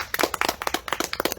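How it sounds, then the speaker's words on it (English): An audience at a stand-up comedy show claps in a short burst, with irregular, crisp hand claps at moderate distance and no talking over them. "Applause!"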